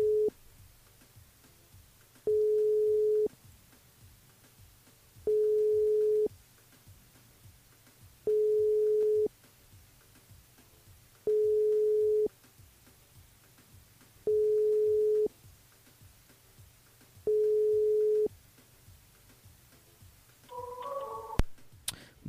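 A telephone busy signal repeats as steady tone bursts of about one second with equal gaps between them, seven in all, and the call is not answered. A brief rustle follows at the end.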